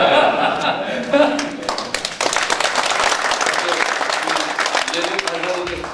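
An audience at a Korean policy forum bursts into applause, building to steady, dense clapping that carries on for several seconds, with a speaker's voice heard over the start.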